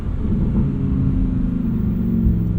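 A Lamborghini engine burbling at low revs, a deep, steady, loud rumble that holds nearly constant throughout with no talking.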